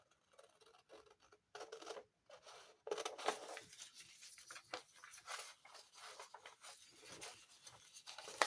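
Scissors snip through paper while trimming a slight border for a handmade book, giving quiet, irregular crisp cutting and rustling strokes close by with short pauses between.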